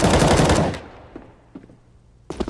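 CS:GO gunfire from a headshot in a PGL Krakow 2017 pro match: a loud, rapid burst of shots that cuts off, then a few isolated softer shots and another quick burst at the end.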